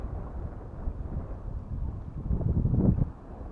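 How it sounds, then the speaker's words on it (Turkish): Strong wind on a seashore buffets and rumbles continuously, swelling into a heavier gust near the end before easing off. "Evet bayağı bir rüzgar var sevgili dostlar."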